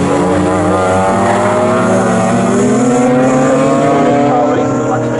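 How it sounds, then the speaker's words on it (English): Race cars, including BMW M3s, roar past at Snetterton in a loud, continuous blend of engine notes with shifting pitch, while a voice talks underneath. "Car race, the luxury car race"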